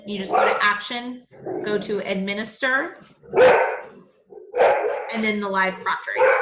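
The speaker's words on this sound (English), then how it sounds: "very sorry about the dog" A dog barks indoors in short yips, heard under a person explaining software steps, the barks mixed into the talk.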